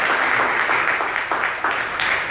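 A church congregation applauds during a sermon, a steady, dense wash of clapping from many hands that continues without a break.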